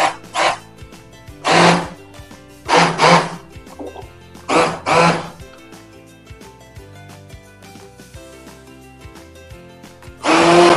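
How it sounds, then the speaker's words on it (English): An immersion blender purees soup in several short, loud whirring bursts separated by pauses, with a quieter background hum between them and no speech. "we're going to puree it with an immersion blender"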